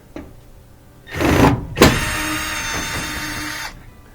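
A power tool removing corner screws from a Whirlpool washer, heard as two short whirring bursts followed by a longer steady drive buzz, close and alone.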